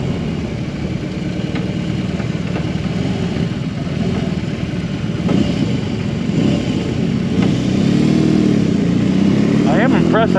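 A 2022 BMW R18B motorcycle engine hums and rumbles steadily while riding, with a voice talking over the engine noise close by.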